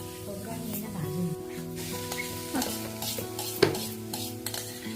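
Grated coconut roasts in a little ghee in a pan, a soft continuous sizzle with scraping stirs and a sharp utensil clank, while a voice talks over it.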